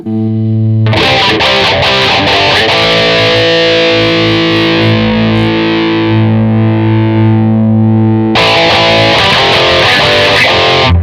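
Heavily distorted electric guitar through a 5150 amp simulation rings out loud and sustained, with chugging attacks at the start and a fresh strum near the end.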